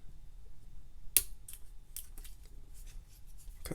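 Scissors snip through trading card packaging, with one sharp loud cut followed by several quicker, lighter snips and rustles, close up with no talking.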